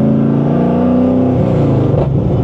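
A Chevrolet Corvette C6 engine accelerating hard, with a loud, close, deep rumbling drone that rises in pitch steadily over a couple of seconds, alone without talk.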